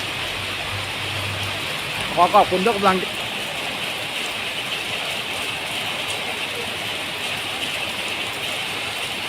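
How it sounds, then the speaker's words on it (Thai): Steady rain falls in a continuous even hiss throughout, with a brief burst of talk near the start over the downpour. "ฝนตกเจยนะครับฝนตกเจยเนาะ"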